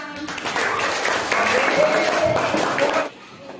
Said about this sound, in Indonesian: Ya, sip, tepuk tangan.